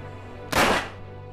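A single sharp pistol gunshot from a film scene, with General Fromm's pistol used in a suicide, bursts out loud and near then decays over a low steady background hum.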